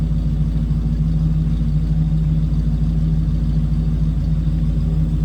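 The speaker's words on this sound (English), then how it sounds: "Slip around to the back so you can hear this run." A 1947 Ford convertible street rod idles from behind the car with a mild cam and mild exhaust, a loud, steady low rumble with an even, smooth pulse and no revving.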